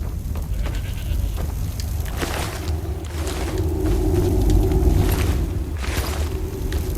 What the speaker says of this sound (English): Was that the bleating of a goat I heard?